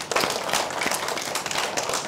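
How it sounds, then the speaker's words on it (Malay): Pupils in a primary classroom clap together for a classmate, a dense burst of close, steady applause lasting a couple of seconds. "Tepuk tangan semua"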